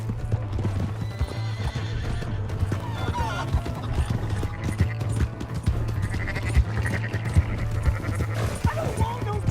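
Horse hooves clip-clopping steadily in Red Dead Redemption 2, close and continuous, with occasional neighs and animal calls, and voices heard now and then in the background.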